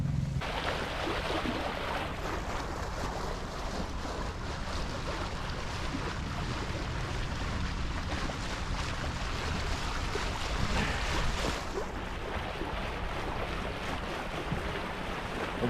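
Sailboat moving across the water in wind, a continuous broad rush of water along the hull mixed with wind buffeting the microphone, steady and close throughout with no talk.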